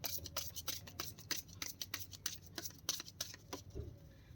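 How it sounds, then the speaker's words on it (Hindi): Tarot cards are shuffled by hand in a quiet room, a soft, steady run of riffling flicks and slides repeating in quick rhythm, close and fairly faint. "मैंने अभी शफल नहीं किया था।"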